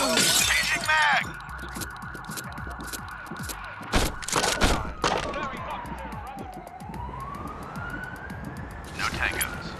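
In a video game, a flashbang grenade goes off with a sharp bang followed by a ringing tone. Gunfire and other game effects sound around it, and voices speak in the background.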